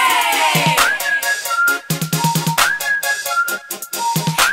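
Bright melodic whistling in short repeated phrases over a rhythmic music backing, with sliding pitches and steady beat; no talking.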